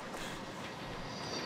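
Train rolling past in the video game Ghost Recon Breakpoint, a steady, dense rumble with wheel clatter holding at a constant loud level for the whole stretch, with no voices over it.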